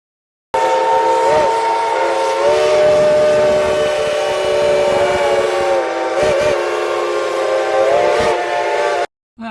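A steam locomotive on the Cass scenic railroad runs with a loud, sustained multi-tone whistle held for most of the stretch, close and dominant, with chuffing and rail noise underneath before it cuts off.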